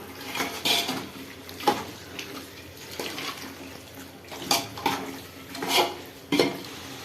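Chicken biryani mixture with marinated chicken stirred in a pot, giving irregular scraping and clanking of a utensil against metal, several distinct knocks over a low steady background.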